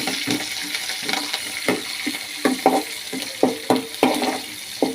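Cumin, mustard seeds, peanuts and green chillies fry in oil in a pan: a steady hiss with repeated knocking clicks of stirring, close and fairly loud, and no talking.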